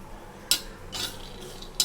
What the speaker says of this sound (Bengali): শুকনো লঙ্কা আর বাদাম হালকা করে ভাজছি